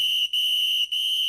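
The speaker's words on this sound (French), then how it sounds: "le sifflet, mais il casse la tête" Shrill referee whistle blown in three steady blasts separated by brief gaps, loud and close with nothing else audible.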